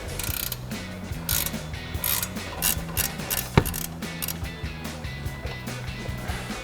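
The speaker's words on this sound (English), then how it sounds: "Now we can grab our 18 millimeter ratchet wrench and remove our upper ball joint mounting nut." An 18 mm ratchet wrench removes the upper ball joint mounting nut on a 2020-2026 Silverado 2500 during a control arm leveling lift install, giving steady rapid pawl clicking with rhythmic bursts and a sharp single knock midway, close and clear.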